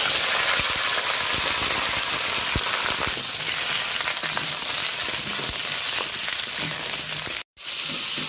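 Sliced ridge gourd fries in about a tablespoon of hot oil in a wok, giving a steady, dense sizzle and hiss that runs throughout with small crackles and one brief dropout near the end.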